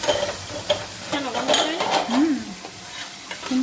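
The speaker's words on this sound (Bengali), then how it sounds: "হচ্ছে মশলা কষা" Spice paste is stir-fried in a pan with a close, bubbling sizzle and brisk scraping stirs.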